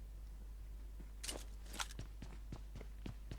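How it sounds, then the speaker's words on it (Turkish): Footsteps in the video game PUBG Mobile, a series of crisp steps at an irregular pace, starting with a couple of louder scuffs and then settling into evenly spaced, moderately loud treads over a steady low background hum. "Ayak sesi var."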